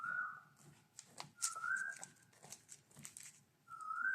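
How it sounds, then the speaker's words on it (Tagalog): A bird calls repeatedly with clear, rising whistled notes, fairly close, over a quiet background with faint rustling. "Nag-iingay na naman yung ibon na yun."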